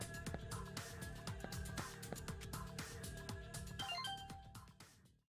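A phone message notification in the video game Digimon Stories: Cyber Sleuth, a bright chiming electronic melody of repeated tonal notes over a steady game backdrop, ending with a short decay.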